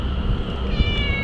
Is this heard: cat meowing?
yes